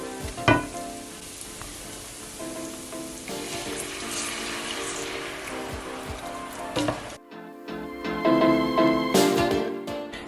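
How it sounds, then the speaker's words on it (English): White wine bubbling in a pan with tomato risotto and king prawns, a busy close sizzle and popping that runs throughout, broken by a sharp clatter and a brief quieter stretch near the end. "let it bubble away, let the alcohol evaporate"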